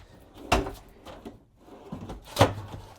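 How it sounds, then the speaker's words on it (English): Soft-close drawers in a 2025 Newmar Northern Star 4037 RV bathroom, heard as two separate muffled thumps about two seconds apart, each with a short sliding rumble, close by in a quiet room. "And there's soft close on those drawers."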